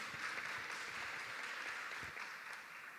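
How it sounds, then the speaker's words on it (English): Faint, steady audience applause in a hall at an international biennale forum, a soft continuous patter of clapping lasting a few seconds. "Please make your applause."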